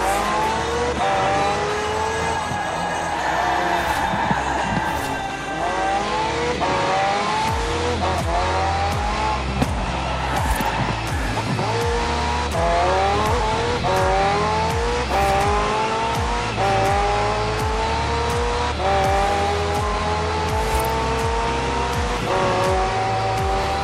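A McLaren sports car with a twin-turbo V8 hybrid drivetrain in Forza Horizon 4, engine revving hard and climbing through repeated gear changes, loud and continuous with occasional tire noise.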